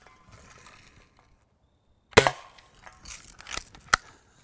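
Lever action BB guns, a Lil' Duke and a Lil' Sure Shot, fire low ricochet BBs, giving a sharp near crack followed by a few smaller snaps and pings of BBs striking and bouncing off targets.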